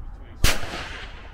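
A single sharp precision rifle shot on an outdoor long-range course, loud and close, its crack followed by a short rolling echo.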